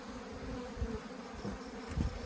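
A dense, steady hum of many honey bees buzzing around a hive, close by, with occasional louder passes near the ear.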